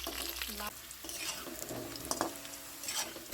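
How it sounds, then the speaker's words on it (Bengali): Potatoes frying in hot mustard oil in a pan, a steady close sizzle with scraping stirs of a spatula and occasional clinks against the metal pan, no talking. "সরষের তেল দিয়ে নিলাম, আলুগুলো দিয়ে দেবো। ভালো করে নাড়াচাড়া করে"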